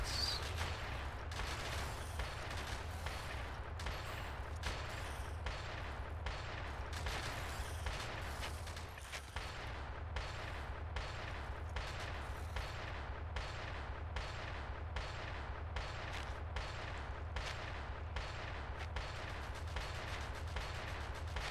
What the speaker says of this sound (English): Couple of turrets. Couple of rifle shots.